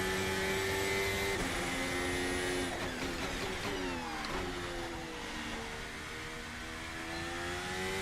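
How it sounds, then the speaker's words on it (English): Open-wheel Formula Alpha racing car in the VRC Formula Alpha sim, a steady high-pitched engine whine shifting pitch through gears, with tire scrub and grip noise layered underneath, continuous and close throughout. "Even the sounds are amazing, because you can hear the tires. You can hear the grip, man."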